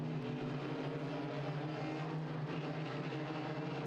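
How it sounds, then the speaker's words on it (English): Several race car motors drone together at a restart, a dense sustained roar with steady engine tones, fairly loud and continuous with no voices over it. "The sound of motors start to pick up. So does the acceleration."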